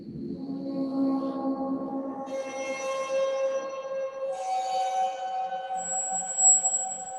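Custom welded metal string instrument fitted with weights and counterweights, giving sustained, eerie bowed-metal drones with layered harmonics and a shimmering high whine that swell and shift over seven seconds, with no talking.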